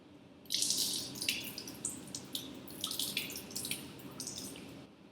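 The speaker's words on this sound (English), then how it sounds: "Now try to open the water tap to see if the water flow properly." A lab water tap is opened during a benzoic acid preparation beside a reflux condenser setup, and water streams out in a steady, close, hissing rush with small splashy fluctuations, running alone for several seconds.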